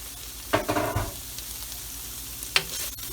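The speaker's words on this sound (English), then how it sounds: "I'll give it a quick stir" An oyster and pork mixture is stirred in a pan, with a burst of scraping and stirring near the start, a short clatter later on, and a low sizzle running underneath.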